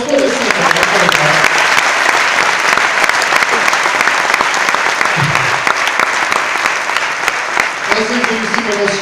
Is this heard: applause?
yes